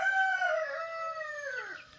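A second-generation northern jungle fowl rooster crows once, a clear, loud, close call lasting about two seconds that holds steady and then falls away at the end, with no voices.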